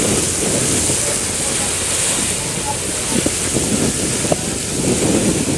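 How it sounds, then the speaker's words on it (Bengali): Heavy rain and strong wind roar steadily aboard a passenger launch during a Kalbaishakhi storm on the river from Chandpur to Dhaka, a dense continuous wash with faint voices underneath. "এই দেখতেছি ম্যাঘ যে পরিমাণ বাতাস আর বৃষ্টি,"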